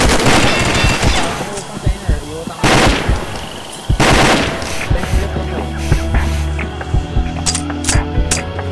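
Bursts of video game gunfire ring out in rapid, repeated volleys with sharp loud cracks, mixed with game sounds and some talk.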